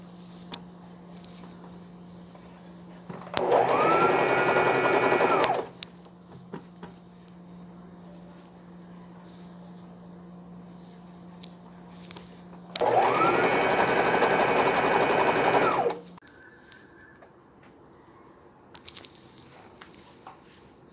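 A sewing machine long-stitching the top of a baby frock runs in two close, steady bursts of about two and three seconds, with quiet pauses between and no talking.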